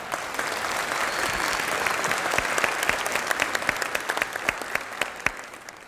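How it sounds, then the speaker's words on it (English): A seated audience at a graduation ceremony for seniors breaks into sustained applause, dense clapping that holds steady and then thins into a few loud, separate claps near the end. "And I think that's pretty spectacular and deserves a round of applause."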